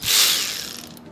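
A ratchet wrench gives one short, close clicking burst while working a 10 mm fan shroud bolt on a 2010 Jeep Grand Cherokee with a 3.7L V6, and it fades quickly.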